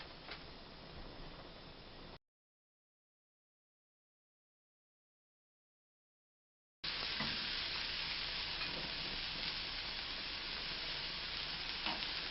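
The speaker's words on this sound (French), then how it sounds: "j'ai râpé mon oignon, que j'ajoute mon beurre salé. Je le fais un peu revenir à la poêle" Grated onion sautés gently in salted butter in a pan over low heat, a soft continuous sizzle with faint stirring ticks, heard briefly, then cut out for a few seconds before returning louder and steady.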